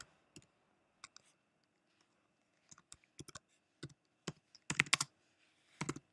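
Typing a description on a computer keyboard, with sparse isolated key taps that build into short quick bursts of clicks, close-miked and crisp against near silence.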